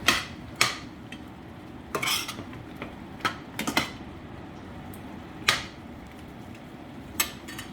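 Spoon scraping and clanking against a pot while mushrooms are stirred into chicken adobo, with several sharp metallic knocks spaced irregularly over a steady low background hum.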